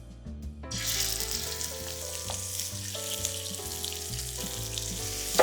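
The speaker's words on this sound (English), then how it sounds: "as long as you see a nice ripple of oil in the pan and I'm seeing some smoke coming off, you can go ahead and set your scallops in" Scallops searing in a hot, smoking oiled pan during a stir-fry cook, with a sudden loud sizzle that starts as they hit the pan and then settles into steady, close frying under soft background music.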